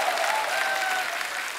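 A studio audience on The Kapil Sharma Show applauds with a brief, steady burst of clapping, a few faint whistles rising above it.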